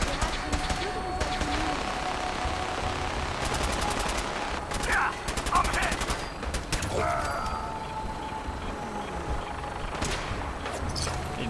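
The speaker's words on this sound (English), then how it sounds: "Oh, no, she got her laser rifle back. I don't know what she's shooting at." Laser rifle fire in Fallout 4 during a battle, with repeated rapid bursts of sharp zapping shots at mid-distance over constant game background noise and a faint voice.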